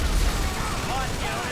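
A dense, rumbling explosion in GTA 5 fills the clip with low booms and crackling debris, loud and continuous from start to end.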